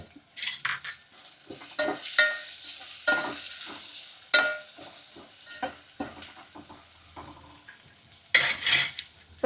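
Onions sizzle and fry in hot oil in a pan with peas and cumin for Gujarati rasiya bhat, while a spoon stirs and scrapes the metal again and again and a sharp clatter rings out near the end.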